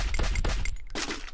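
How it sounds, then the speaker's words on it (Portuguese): Gunfire in the Free Fire video game, a quick burst of several sharp shots in succession, a short pause, then another loud burst close up. "Dei 3 tiros aí no peito de 50."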